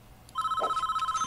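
A telephone rings in the Prison Architect video game, a steady electronic warble that starts suddenly and repeats in quick, even pulses, loud and clear with no talk over it.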